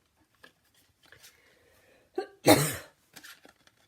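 A single sharp, harsh cough bursts out close by after a few quiet rustles and a short throat sound, then small shuffling noises follow.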